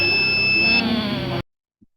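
A gas-sensor fire alarm buzzer on a small project model sounds as one steady, loud electronic tone that cuts off abruptly after about a second and a half, followed by a faint tap.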